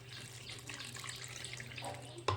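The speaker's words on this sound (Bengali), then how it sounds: "তারপরে দিয়ে দেব জল।" Water trickling steadily into suji idli batter made with semolina and sour curd, a faint continuous pour with a brief louder splash near the end.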